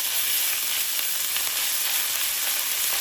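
Onion sauteing with ginger garlic paste in hot oil, a loud, dense, unbroken sizzle and hiss throughout, close and alone.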